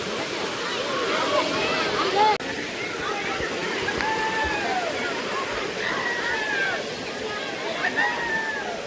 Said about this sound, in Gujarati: એક જાતનો વોટરફૂલ જ ગણાય